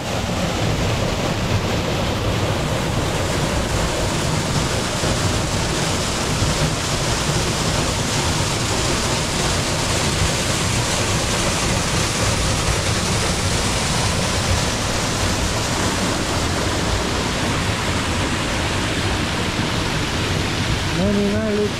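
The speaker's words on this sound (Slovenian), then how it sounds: "Meni najljubši slap na Bohu." Bojanca waterfall on Bohor, a loud, continuous rushing roar of falling water at close range, steady throughout, with a brief voice appearing at the very end.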